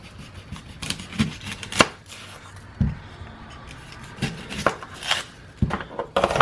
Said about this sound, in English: We're going to cut up an onion as well